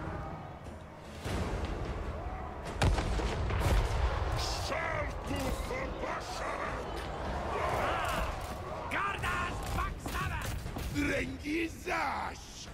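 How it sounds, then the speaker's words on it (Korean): Dwarf organ gun and cannon fire in a Total War: Warhammer 3 battle, a dense stretch of repeated booming shots and clattering mechanisms over constant battle noise, with someone talking over it. "대포 보소! 오르간포?"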